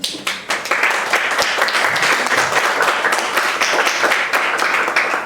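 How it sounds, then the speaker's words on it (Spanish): Loud, sustained applause from a lecture audience welcoming a speaker, steady clapping filling the whole stretch without letting up. "pido un fuerte aplauso de bienvenida"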